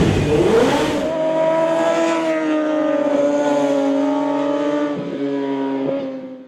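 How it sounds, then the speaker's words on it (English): A sportbike motorcycle engine fitted with a Grip Ace digital switch kit cranks, fires up, and holds a loud, steady idle with strong harmonic tones. A couple of brief throttle blips come near the end, and no one speaks. "You can even start your motorcycle using the Grip Ace system."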